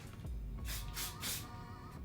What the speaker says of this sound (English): just grab again your hairspray and then just